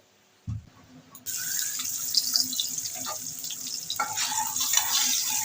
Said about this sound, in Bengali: আমি সর্ষের তেল দিয়ে দিচ্ছি, ডিমগুলোকে ভেজে নেব।